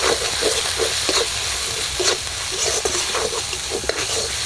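Spices fry with turmeric, salt, eggplant and potato in a pan, a loud steady sizzle with rhythmic stirring scrapes and soft clatters of the spatula, close and continuous without talk.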